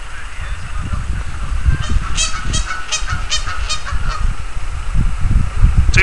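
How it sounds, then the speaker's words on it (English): Geese by a city canal basin give a run of several loud, nasal honks in a quick series, close by over a rumbling outdoor background of wind and footsteps. "Oh, there's the geese, or two of them."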